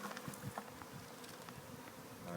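Honeybees hum and buzz steadily around an open hive as a package of bees is installed, a dense close swarm drone with individual insects zipping past.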